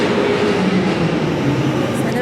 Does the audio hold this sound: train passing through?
yes